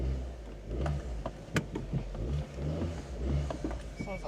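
A Vauxhall Corsa fitted with an open air filter drives along, its engine a low rumbling drone with intake roar rising and falling inside the car.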